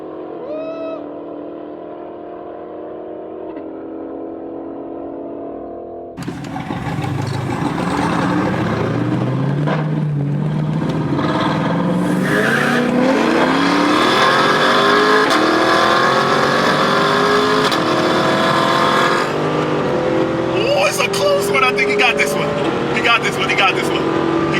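A C8 Corvette and a full bolt-on Dodge Challenger in a roll race, their engines roaring loudly and climbing steadily in pitch as they accelerate hard after a quieter idle, with voices over the noise.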